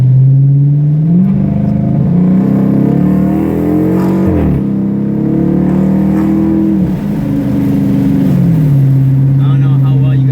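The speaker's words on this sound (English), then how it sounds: "You guys are about to hear some American muscle." A Dodge Charger R/T V8 revving loudly up close, the engine rumble rising and falling through several throttle blips before settling back to a deep idle.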